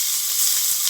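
Onions and curry leaves sizzle steadily in hot tempering oil for a Madurai-style thin chutney, a close, continuous bright frying hiss with no talk.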